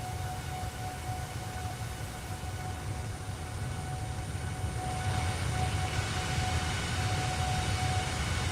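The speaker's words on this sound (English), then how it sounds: "Can you hear the engines and everything else running?" Steady jet engine roar with a high whine from a flight simulator game on a Luton to Edinburgh flight, continuous and loud with no talk, swelling slightly midway.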